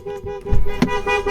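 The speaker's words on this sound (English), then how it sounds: "Select a gear, it dies, horn goes mad" A car horn honks repeatedly in short blasts, set off by a 2022 Starline Halo alarm after the immobilised car stalls when a gear is selected, heard close over engine and vehicle noise.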